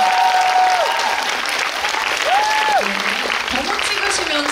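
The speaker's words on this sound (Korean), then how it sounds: "박수 부탁드립니다" An audience at a film screening talk applauds loudly and steadily throughout, a thick wash of clapping with a voice rising over it at moments.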